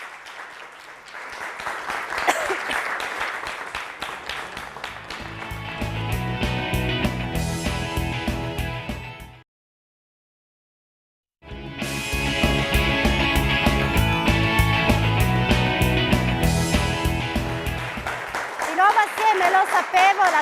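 Studio audience at a live Italian TV quiz show breaks into loud, sustained applause with music, cuts to silence for about two seconds, then resumes full and dense until the end.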